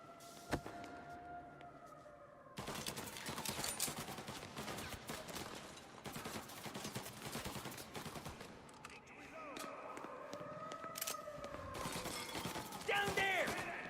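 Gunfire in Mafia Definitive Edition, sharp crackling shots and bursts over siren-like wails, breaking glass and shouting voices.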